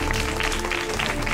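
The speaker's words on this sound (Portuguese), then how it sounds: "Eu queria também pedir uma salva de palmas, por gentileza, dessas pessoas maravilhosas aqui." Audience at an outdoor civic event in a town square giving a round of applause, a brief burst of dense clapping heard up close.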